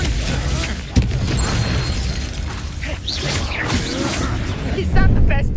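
Confringo explosive spell blasts in Hogwarts Legacy, crackling bursts and booms layered under a shouting voice that keeps casting, with a sharp pop near the start and a heavier blast toward the end.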